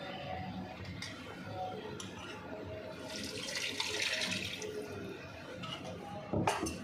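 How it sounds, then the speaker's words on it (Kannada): Water sloshes and trickles as a mixer jar is rinsed and the water poured into a pan while making an okra (bendekayi) gojju, a steady wet pouring sound with faint ticking clinks and a brief splash near the end. "ಅದನ್ನು ಸ್ವಲ್ಪ ನೀರು ಹಾಕೊಂಬಿಟ್ಟು ತೊಳೆದು ಆ ಮಿಕ್ಸಿ ನೀರನ್ನು ಈ ಬಾಣಲಿ ಒಳಗಡೆ ಮತ್ತೆ ಸ್ವಲ್ಪ ಹಾಕಬೇಕು"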